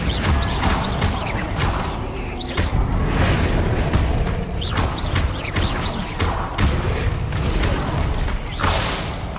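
Bombarda spell blasts in the video game Hogwarts Legacy, a dense run of loud booming explosions and crashes with whooshing magic, one hit after another, continuous throughout with no talk.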